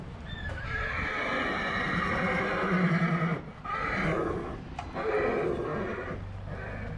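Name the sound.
agitated mares neighing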